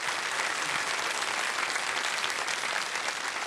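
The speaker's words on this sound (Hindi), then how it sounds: "आज ताली पड़ रही है उसके ऊपर" A studio audience on the quiz show Kaun Banega Crorepati claps in steady, sustained applause, a dense even roar of many hands that stays loud throughout.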